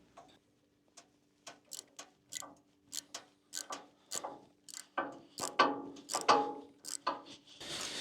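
A ratchet tap wrench handle clicks in a quick, steady series of sharp ticks that grow louder and denser toward the end. The clicking is close and heard on its own, with no speech.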